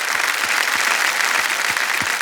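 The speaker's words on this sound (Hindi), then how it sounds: "एक बार फिर तालियां बज जाए इनके लिए" Studio audience on a televised quiz show bursts into loud, dense applause, a continuous wall of clapping with a few low thumps beneath it.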